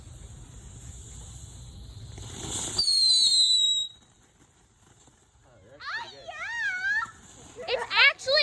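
A palm bomb firework goes off outdoors with a sharp burst and crackling hiss, followed by children's voices and chatter nearby.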